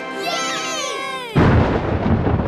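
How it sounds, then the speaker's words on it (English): Cartoon thunder from a children's animated show: a loud, close, crackling rumble that bursts in suddenly and rolls on, right after a brief whiny, sweeping vocal sound. "Sounds like that Cloud outside has a cough, too. That's thunder, Rolly."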